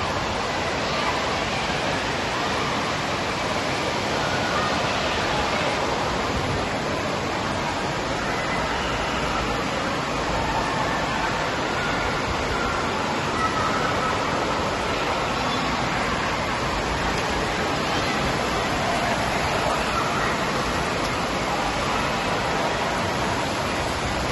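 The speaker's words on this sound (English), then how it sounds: "it's quite loud in here as it's a water park" Dense, steady roar of splashing water and echoing crowd noise fills a large indoor water park, loud and unbroken throughout with no clear voices standing out.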